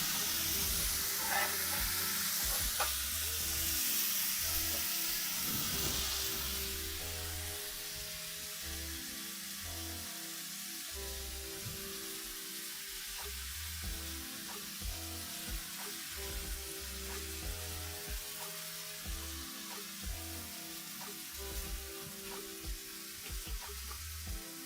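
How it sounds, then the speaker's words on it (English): Smash burgers brushed with mustard sear on a hot griddle, a loud, close, continuous sizzle with occasional scraping and clinks of a spatula, no voices over it. "I put mustard on it before searing."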